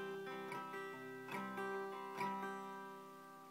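Guitar chords plucked and strummed softly at close range, a few spaced strokes letting notes ring and decay, with no talking.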